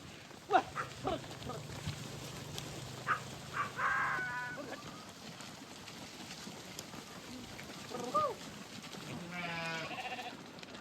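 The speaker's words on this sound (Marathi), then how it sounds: "मेंढरा आता निघाल्यात" A flock of sheep heads out from a village hamlet in hot sun, heard as faint scattered bleats and animal calls at a distance over a low outdoor background, with occasional voices.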